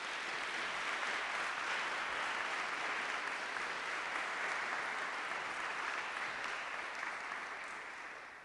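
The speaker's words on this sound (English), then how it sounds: "if we could also give them both a round of applause" Steady, sustained applause from an audience at a school senior awards night, a dense wash of clapping that holds evenly for several seconds before easing slightly at the end, with no talking.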